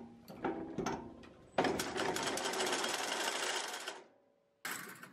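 A fiber mill machine stutters through a few short mechanical bursts, then runs in a fast, dense clatter for a couple of seconds, stops, and briefly starts again.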